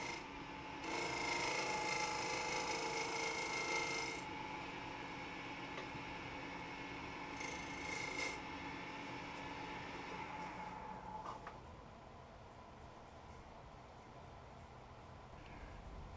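Shear scraping a microwave-dried redwood bowl blank on a lathe gives a steady, raspy scrape against the spinning wood, strongest early on and again briefly mid-way, then fading to a quieter rubbing hum under the running machine.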